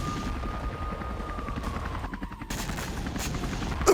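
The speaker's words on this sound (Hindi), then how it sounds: "यूक्रेन के Mi-8 हेलीकॉप्टर्स का combat mission with the visuals." Ukrainian Mi-8 helicopters on a combat mission: a continuous rotor thrum and a falling engine whine, with bursts of gunfire crackling through the middle and end.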